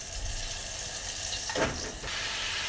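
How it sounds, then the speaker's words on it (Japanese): Continuous hissing sizzle from a hot pan, with a sudden louder whoosh and crackle as white wine hits it for flambéing, then steady sizzling resumes. "白ワインでフランベします。"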